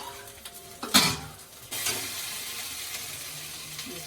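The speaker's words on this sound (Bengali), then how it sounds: "এবার মশলাটা আমি ভালো করে কষাই নেব" Ground masala paste of chilli and cumin being sautéed in a pan, a soft steady sizzle with a sharp clatter of a spoon against metal near the start, close and moderately quiet.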